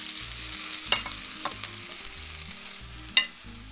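Button mushrooms stir-frying with onions and garlic in a pan, a close steady sizzle with two sharp utensil clinks against the pan, no voices.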